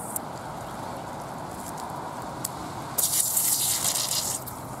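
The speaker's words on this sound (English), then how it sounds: "now it's spraying out good." Water sprays from a garden hose nozzle after debris is cleared, a steady hiss bursting in partway through and continuing loud over faint outdoor background noise.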